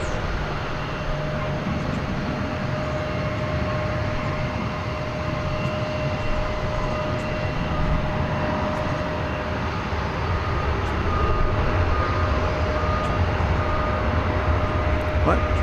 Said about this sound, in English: As you listen to the arrival of American Flight 2335 from Albuquerque